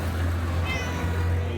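A cat gives a short meow over a steady low hum, close by and fairly quiet, inside a small converted shop used as a gallery.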